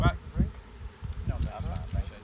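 Many honey bees buzz in a steady, dense hum close by, with soft thumps and handling noises underneath.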